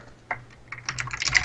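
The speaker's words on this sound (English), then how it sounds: "loud ass keyboard" Loud clattering keystrokes from a computer keyboard, building into rapid, dense typing across a short stretch, heard alone with no talking over it.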